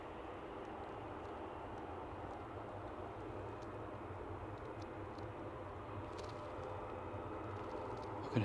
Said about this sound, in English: I can hear the ATR 76 coming across.